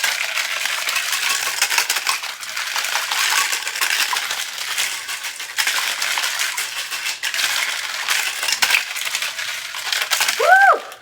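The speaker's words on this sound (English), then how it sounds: "once you get everything in, you have to shake it until your hands can no longer deal with it anymore" A cocktail shaker packed with ice and drink ingredients is shaken hard and continuously, giving a loud, steady rattle of ice against metal for about ten seconds with no talking.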